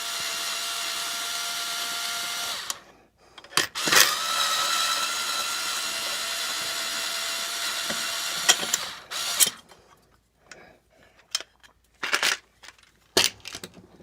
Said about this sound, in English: it takes a Torx bit on this here one. We'll pull those out to remove the muffler.